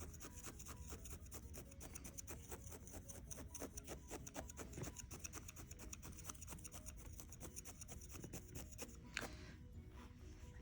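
A felting needle jabs repeatedly into a wool hat attached to a felting pad, making a fast, even, close-up rhythm of soft scratchy pokes.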